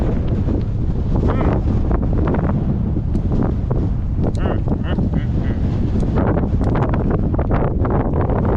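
Strong headwind buffeting the microphone while cycling a gravel road race, a constant loud low rumble with gusty flutter and no break.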